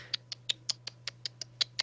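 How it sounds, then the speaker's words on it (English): A clock ticks in an even, sharp rhythm, about ten crisp ticks heard close and alone over a low steady hum. "That was the sound of a clock ticking"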